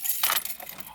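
Keys jangle briefly and close by inside a Volkswagen Golf GTI Mk5 during a seat replacement, a short bright metallic rattle with no talking.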